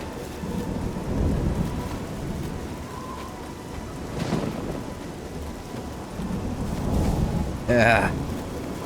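Steady rain and rolling thunder from a stormy scene in the video game Oblivion fill the background, with low rumbles swelling and a sharper crackle near the end, while someone talks over the top.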